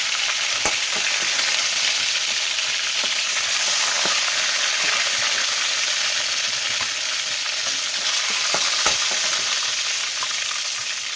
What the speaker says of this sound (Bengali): আর আমি একটু হালকা করে ভেজে নিচ্ছি